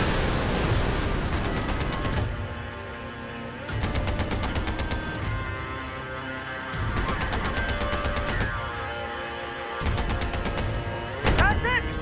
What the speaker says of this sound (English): I'm generally just going to set this mortar